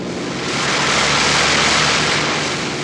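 A Tracker anti-submarine aircraft of the 1950s Royal Canadian Navy flies past, a loud, steady propeller-engine roar that swells slightly in the middle, with no voices.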